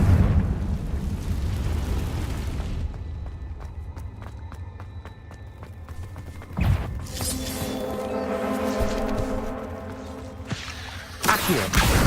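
Confringo fire spells burst in Hogwarts Legacy gameplay, with a rumbling blast at the start, another sharp hit midway and a final loud burst near the end, set against game effects and crackling ambience.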